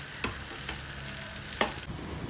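Rice being stir-fried for egg fried rice in a pan: a soft continuous sizzle with a few distinct scraping knocks of a spatula, close and fairly quiet, over a couple of seconds with no talking.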